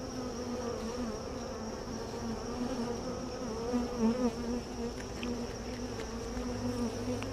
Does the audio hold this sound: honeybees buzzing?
yes